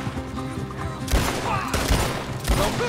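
Gunfire in the video game Red Dead Redemption 2, with about three loud, sharp shots cutting through a busy in-game backdrop of noise and music.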